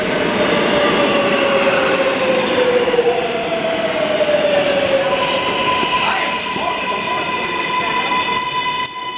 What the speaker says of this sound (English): Yes, the train is coming.